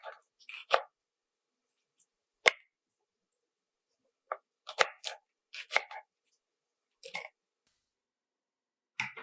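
Green chili cut into medium pieces with a knife on a board, several crisp isolated chops with gaps of silence between them, close and clear with no talking.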